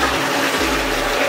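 A toilet flushes in a luxury hotel room in Mykonos, Greece, a loud, close, steady rush of water that fills the short moment without any talk.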